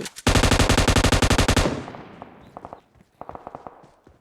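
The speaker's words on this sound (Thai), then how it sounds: "เรายิงแค่ไม่กี่นัดเอง" Automatic gunfire in the video game PUBG Mobile rattles off as a loud, rapid burst of evenly spaced shots, followed by quieter scattered single shots and short clusters in the background.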